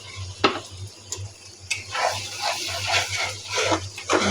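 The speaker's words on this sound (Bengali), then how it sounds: "মশলাটা একটু ভালো করে কষিয়ে নেব" Spice paste (masala) frying in a pan while being stirred, a soft sizzle under irregular scrapes and taps of a utensil against the metal, with a low steady hum beneath.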